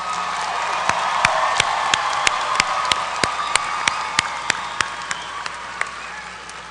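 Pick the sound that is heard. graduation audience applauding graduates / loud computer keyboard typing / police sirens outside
graduation audience applauding graduates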